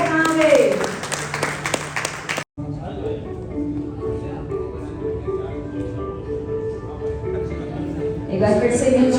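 An audience at an awards ceremony honoring doctors and contributors applauds in a hall, with a brief gap before sustained, moderately loud clapping under a voice and music, then rising again at the end.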